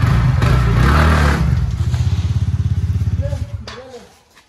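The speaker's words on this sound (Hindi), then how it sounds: "इधर से वो गाड़ी निकलेगा।" A motor vehicle passes along a narrow residential lane at night, its engine rumbling loud and close at first, then a rapid pulsing putter that fades as it moves off, with voices nearby.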